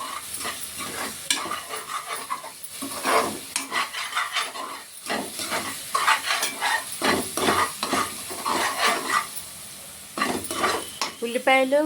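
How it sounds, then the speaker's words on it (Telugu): Onion paste cooks down in a pan, a soft sizzle under repeated rhythmic scraping and stirring strokes of a utensil against the metal, close and fairly loud, with no one talking. "ఉల్లిపాయ పేస్ట్ ఇలా మగ్గాలి"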